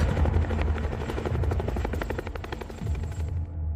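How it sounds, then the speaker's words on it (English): A large helicopter flies overhead carrying a steel Conex shipping container slung beneath it: loud, rapid rotor chop over a deep engine roar, steady throughout and fading away at the very end. "A second helicopter, even bigger, carrying a steel Conex shipping container"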